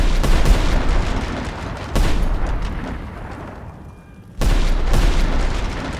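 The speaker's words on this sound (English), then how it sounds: "The French then unload a furious barrage of musket fire at Sharpe and MacDonald." Furious barrage of French musket fire in a Napoleonic-era video game, a dense, loud volley of overlapping shots that swells in bursts, briefly thins, then erupts again with no talking.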